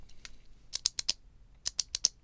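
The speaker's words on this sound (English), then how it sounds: "tenrecs will rub special spines together to create this clicking" A lowland streaked tenrec rubs special spines together, making sharp, dry clicks in two quick bursts of four or five, crisp and close against near silence.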